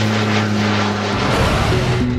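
A Life Flight air ambulance plane in flight, a loud, continuous propeller-engine drone with a steady hum whose pitch shifts slightly partway through, heard alone without talk.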